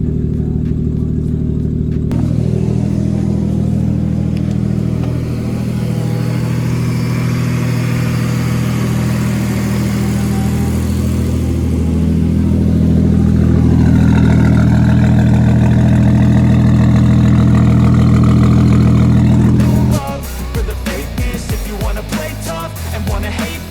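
The 550 hp turbocharged Ford Escort MK2 engine runs loud and close, a rough idle swelling into sustained revving that climbs in pitch, then drops back abruptly to a choppy, lumpy idle.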